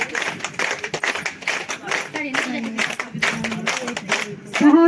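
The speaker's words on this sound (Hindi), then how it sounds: "तालियों से स्वागत कीजिए।" A village crowd claps to welcome a chief guest, irregular scattered hand claps from a modest gathering close by, with voices talking over them throughout.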